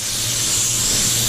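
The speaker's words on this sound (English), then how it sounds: "So because we're spraying on top of sealer" Paint spray gun applying a two-tone coat over sealer on a Range Rover Velar, a steady close hiss of atomized spray running evenly throughout with no talk.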